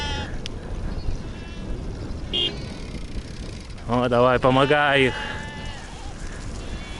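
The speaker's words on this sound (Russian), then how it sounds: "Овечки, барашки, козы, козлы." A mixed roadside herd of sheep, lambs, goats and billy goats near Ulaanbaatar gives a loud, close burst of bleats in the middle, with a brief faint cry earlier, against a steady engine or wind rumble while someone speaks.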